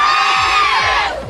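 Loud crowd noise dominates throughout, a dense wall of cheering and shouting voices from a live variety show audience, steady for over a second before tapering slightly at the end.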